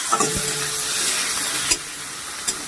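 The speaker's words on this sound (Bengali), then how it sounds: "কাঁচা পাকা লঙ্কা আমি কেটে রেখেছিলাম সেই কটা এবার এর মধ্যে দিয়ে দেবো" Chopped green and red chillies tipped into a hot frying pan for hotel-style egg chilli, oil sizzling steadily with brisk stirring scrapes and a couple of sharp clinks, close and loud, no talking.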